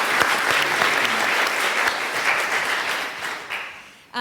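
An audience at a podcast launch claps warmly for a panel, a steady dense round of applause that holds for several seconds before tapering off and cutting to a sudden sound at the end.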